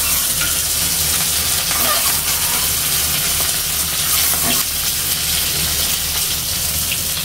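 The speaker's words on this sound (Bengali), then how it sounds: "আর এগুলো আমি ভেজে নেই।" Sliced potatoes, onions and peeled boiled eggs fry in a pan with a loud, steady sizzle and crackle that runs unbroken throughout, with occasional stirring scrapes and no voices.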